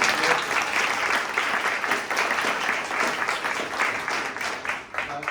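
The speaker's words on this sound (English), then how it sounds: "round of applause" An audience at an evening client project showcase claps in a sustained round of applause for the Pink team, dense and loud, fading slightly toward the end.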